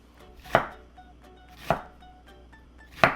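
An onion being chopped with a knife on a cutting board: three slow, evenly spaced thuds, crisp and close, with near silence between them.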